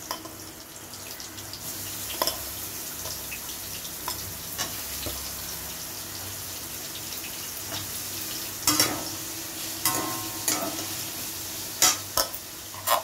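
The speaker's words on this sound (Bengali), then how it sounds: "এই দেখো সোয়াবিনটাকে মেখে রেখেছিলাম লবণ হলুদ দিয়ে, এটাকে একটু ভেজে নেব এখন" Soybean chunks coated with salt and turmeric fry in a pan, a low steady sizzle with occasional clanks and scrapes of a spoon stirring, plus a burst of quick utensil knocks toward the end.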